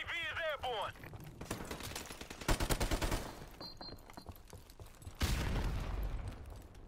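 MP44 assault rifle fire in Call of Duty: Modern Warfare Remastered multiplayer, with bursts of rapid automatic shots in two main clusters, mid-loud, mixed with game effects and a short vocal sound at the start.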